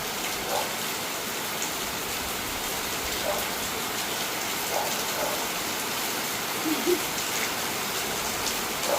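Rain falls steadily outdoors as an even, hissing patter with occasional louder drops, moderately quiet and continuous throughout.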